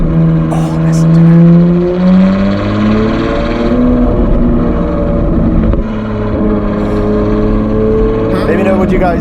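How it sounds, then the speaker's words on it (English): A Ferrari 812 GTS fitted with a Novitec N-Largo exhaust revs loudly and up close, its rising and falling engine note sustained through the whole stretch, with voices talking over it. "Let me know what you guys think about this exhaust system."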